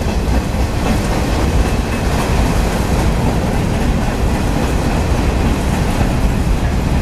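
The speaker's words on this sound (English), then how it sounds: "Now that is an old Union Pacific boxcar right there." An old Union Pacific boxcar rolls past on a freight train, heard close as a loud, continuous rumble of wheels on rail with faint clickety-clack throughout and no talking.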